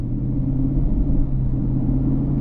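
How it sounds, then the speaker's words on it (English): A 2024 Lexus IS500 V8 in normal drive mode gives a steady, subdued low rumble, an even engine drone that holds throughout without sharp revving. "Sound of the V8, mostly subdued."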